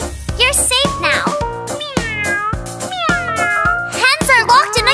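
A cat meows repeatedly in a children's song, the meows sung in a bright, rhythmic series over a steady beat with a musical backing.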